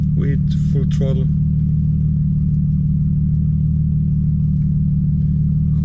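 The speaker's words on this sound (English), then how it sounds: "This time we're gonna do it in the third gear. Same stuff, 2000 RPM to 4000 RPM, with full throttle." Nissan 350Z with test pipes and a remap, run at full throttle in third gear from low to mid revs, a loud steady close engine drone filling the whole clip, with brief speech at the start.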